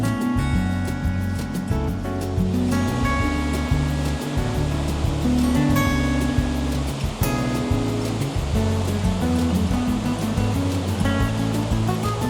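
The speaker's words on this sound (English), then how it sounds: "So we've made it up to the main waterfall." Main waterfall on a South Wales river, a steady loud roar of falling and rushing water that fills the whole stretch without a break, with no voices over it.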